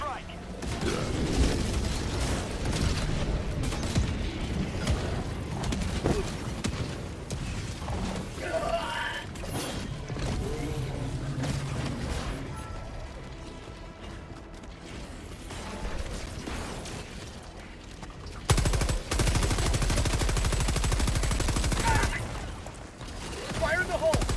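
Sustained rumbling volleys of explosions from a walking barrage and an orbital strike in a video game, dense and continuous across the whole span, with a loud burst near the end and speech running underneath.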